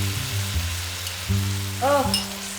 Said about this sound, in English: roast the garlic. You see, the garlic is turning brown.